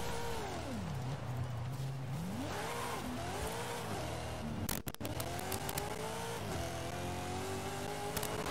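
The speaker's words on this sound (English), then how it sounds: "you can really hear those turbos" Turbocharged Buick car engine in the Forza Horizon 5 racing game, revving up and down with rising and falling whine and turbo whoosh, tire noise and a brief clattering burst midway, steady and loud throughout.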